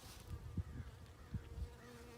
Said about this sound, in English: Oh, the bees are so busy.